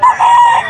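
A seven-month-old stag rooster crows once at a poultry sale, a loud, close, sustained crow with a brief break near the start.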